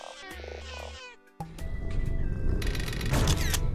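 Cat meowing in the game Replicat, a few short, tonal meows up front followed by game sound effects and a busy jingle.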